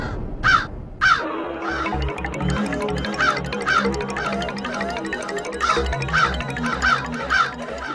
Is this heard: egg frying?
no